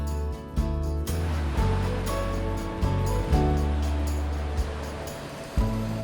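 Waves wash onto the shore at Asan Beach, Guam, in a steady broadband roar with soft surges, mixed under a faint sustained tonal layer.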